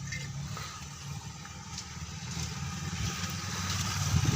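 A strong flow of water pours into a container in a village, a steady rushing gush that swells slightly louder toward the end, with low background rumble.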